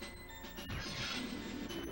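Glass being shot out by guards in the GoldenEye video game, a short smashing crash over steady background game noise and droning music.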